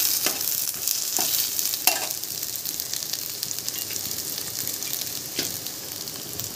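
Whole spices with onion sautéing in a pan for palak masala paneer, a bright steady sizzle with a few sharp spoon taps and scrapes, close up and without speech.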